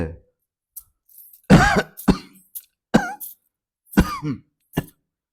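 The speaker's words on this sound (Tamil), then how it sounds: "உள்ளிருந்து ஒரு இருமல் சத்தமும் கொலுசொலியும் ஒரு சேர கேட்டது" Several dry coughs and throat-clearing bursts, close and isolated, separated by short silences.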